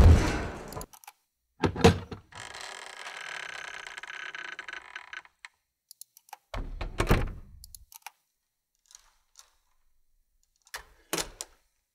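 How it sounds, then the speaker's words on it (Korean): A heavy iron door swings open and slams shut, with a sharp metallic thunk up front, a long grinding scrape, then further hard clanks and bangs spaced out across quieter stretches. "이건 철문."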